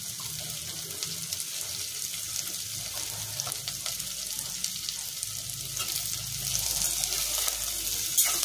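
Potatoes fry in a small amount of oil with sponge gourd and cowpea beans, giving a steady, close sizzle with faint stirring scrapes throughout.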